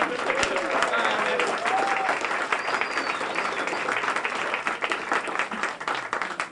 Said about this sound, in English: now we're going to do the applause like you really liked it